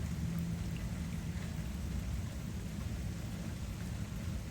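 Heavy rain pouring down onto a flooded sidewalk, a dense, continuous, even hiss with a low rumble, steady and fairly faint throughout, with no voices.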